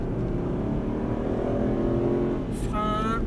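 An Aston Martin Vantage engine drones steadily on a racing circuit, then revs up sharply near the end as it accelerates, loud and close.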